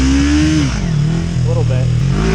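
A motorcycle engine held at steady high revs during a burnout, a loud close droning note that dips and rises slightly, with a voice briefly heard over it.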